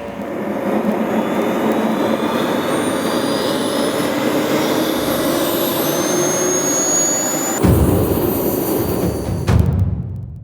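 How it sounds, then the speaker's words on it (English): An ultralight aircraft engine runs up at an airfield, a loud continuous mechanical whine with rising tonal overtones holding steady for several seconds before cutting off abruptly. "start your engine."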